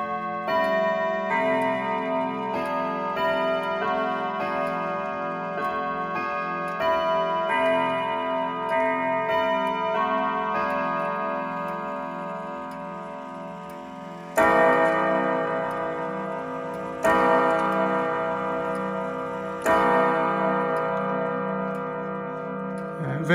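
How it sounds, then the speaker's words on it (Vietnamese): A European longcase pendulum clock with German cabriole legs ticks in a steady, even beat, then chimes several times, each ringing strike sounding close and clear before fading under the continuing tick. "Em này em sẽ test cho các bác nghe thử chuông. Chuông em này rất tuyệt vời."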